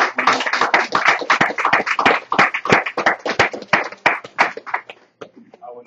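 Applause from a youth gathering follows a scripture reading: a burst of loud, dense clapping that thins out and tapers off near the end.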